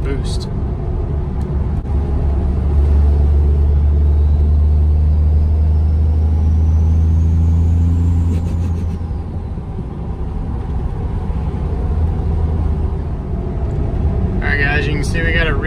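5.9 Cummins diesel with an S468 turbo pulling in overdrive at low revs, a heavy steady rumbling drone from inside the truck with a faint turbo whistle rising and then dropping away.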